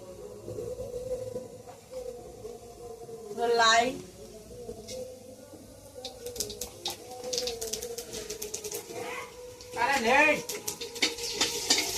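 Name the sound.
chicken frying in oil and being stirred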